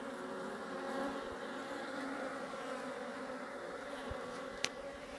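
Honeybees buzz steadily during a beehive inspection, a dense close drone from the open hive with one brief knock near the end.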